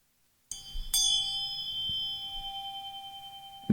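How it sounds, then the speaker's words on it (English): A bell is struck twice in a quiet room, the first clear ding followed by a second strike, with a long bright tone that rings on and slowly fades with a gentle wavering. "And the other, a bell."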